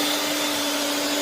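An electric mixer beats mascarpone, quark, sugar and vanilla sugar with a steady, loud, close whir, held at one constant motor pitch throughout.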